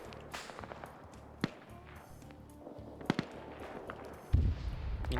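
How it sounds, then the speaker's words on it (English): RPG rockets fired up at a helicopter in a military video game: several sharp, separate cracks and whooshes over a low rotor drone, ending in a louder, heavier blast. "And you're hearing RPGs firing up at the helicopter."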